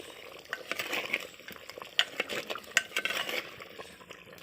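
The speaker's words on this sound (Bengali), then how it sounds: "এই দেখো কত দারুণ ফুটছে" Country chicken curry bubbling in a handi pot, soft irregular popping and gurgling with occasional clinks of a spoon, close and fairly quiet.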